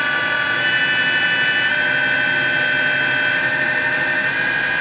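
A Gerber Sabre 408 CNC router spindle runs at 7,000 RPM, a loud steady high whine with strong tonal harmonics and no voices.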